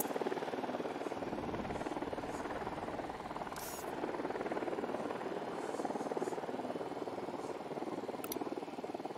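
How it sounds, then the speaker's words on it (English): Surveillance drone hovering in the military shooter game Ghost Recon Wildlands, a continuous buzzing rotor whine holding steady throughout with a faint airy background. "Okay, drone is up."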